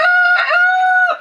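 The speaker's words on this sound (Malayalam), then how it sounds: "പൂവൻകോഴി കാവൽ നിൽക്കും. അവനാണ് ഇവിടുത്തെ എല്ലാവരും സെക്യൂരിറ്റി." A rooster crows once, loud and close, a single sustained call that rises, holds steady and trails off at the end, with no voices around it.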